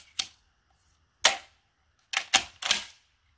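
Five sharp shotgun reports from a Wolverine XP firing 3-inch .410 shells at a range, spaced irregularly with a tight cluster of three near the end, loud and close, no talk.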